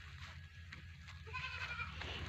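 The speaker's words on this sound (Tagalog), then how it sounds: "Ang dami ng mga kambing dito sa loob, oh." Goats bleating inside a farm pen, a couple of faint, wavering calls against a low droning background.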